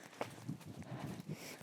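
A ridden horse's hooves clip-clop at a walking pace, soft and somewhat distant, in an uneven rhythm under faint ambient noise.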